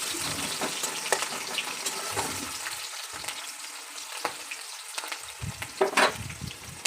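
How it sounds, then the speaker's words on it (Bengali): Coarsely chopped onions fry in hot oil for a masala chicken dish, giving a steady close sizzle with occasional stirring clatter and a brief louder burst near the end, with no talk. "এগুলো ভাজা ভাজা করে নেব।"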